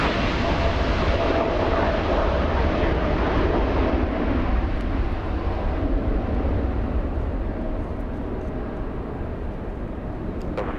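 A KLM airliner taking off at Los Angeles International Airport, heard as a loud, continuous broadband jet roar that holds steady throughout and eases only slightly toward the end, with no talking.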